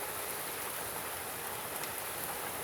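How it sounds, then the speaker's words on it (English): Steady rain falls in Earp, California on already saturated ground, a dense even hiss of drops that stays constant throughout with no voices or thunder. "Now it looks like it's going to decide to rain something more."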